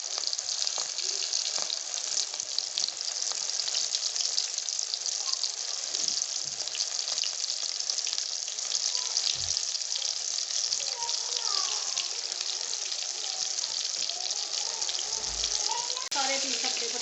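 Fish pakora pieces sizzle and bubble in hot oil, a steady dense hiss running throughout at close range with occasional crackles as pieces are added.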